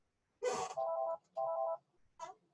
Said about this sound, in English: Sorry about the ringing phone in the background here.